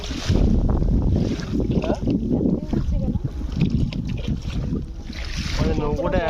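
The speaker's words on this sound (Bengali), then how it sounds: "ঢেউটা আসছে দেখো, শুধু ঢেউটা লাগছে" Waves slap and wash against a small boat on rough water, making a continuous loud churning rush with gusty wind buffeting the microphone.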